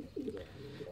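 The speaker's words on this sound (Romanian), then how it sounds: "Suntem în crescătorie la porumbei." A pigeon gives a short, soft, low coo in a pigeon loft, a single faint rolling call with quiet background, no speech.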